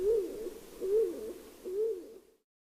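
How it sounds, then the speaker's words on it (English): A stock dove gives its slow, monotonous song: three low, drawn-out coos, evenly spaced and fairly close, with no other sound around them before the last one fades into silence. "stock dove has the most distinctive song, a long, slow, monotonous ooh,"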